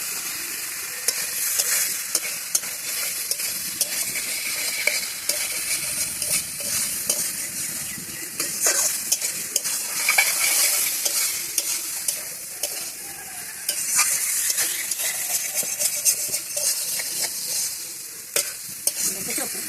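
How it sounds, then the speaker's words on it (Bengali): Spice paste for a jackfruit and prawn curry is stirred and fried in a pan, with a loud continuous sizzle and repeated scraping strokes of a spoon running steadily throughout, no voices. "নাড়াচাড়া দিয়ে কষাতে হবে"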